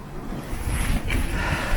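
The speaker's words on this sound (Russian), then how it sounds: "метель ухудшилась" Blizzard wind on a ski trek roars in a dense, steady rush, buffeting the microphone with low rumbling gusts throughout, no voices.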